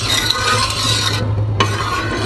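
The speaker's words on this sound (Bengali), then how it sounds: "এখন একটু নাড়াচাড়া দিয়ে নিব।" Batter with sugar and salt stirred in a pan for pattishapta pitha, a steady scraping swirl close by with a low hum underneath and a brief pause near the end; no talk.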